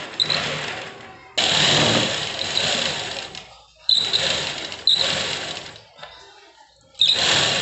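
Sewing machine stitching the folded hem of a palazzo, loud close mechanical whirring in several bursts of a second or more, separated by brief pauses.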